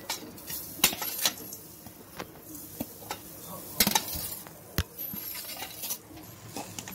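Ground coconut being roasted in a pan for coconut burfi, with a spatula scraping and clinking against the metal in scattered irregular taps over a faint low background.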